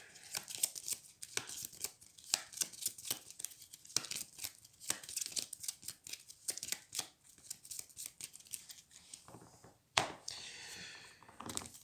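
Playing cards being shuffled for a solo Pathfinder card game, close, quiet rapid riffling and flicking in irregular bursts, with a sharper slap near the end.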